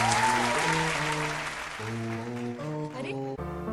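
A studio audience at a televised show bursts into loud, dense clapping that carries on throughout, with a host's voice heard over it.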